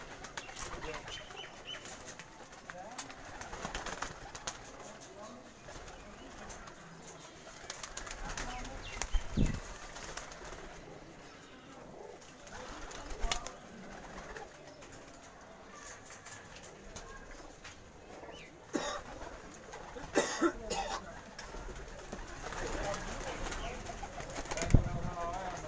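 Racing pigeons at a farmstead loft coo in low, soft, repeated calls, with bursts of wing flapping. Background noise and occasional voices sit underneath.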